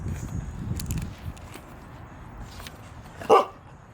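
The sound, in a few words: dog barking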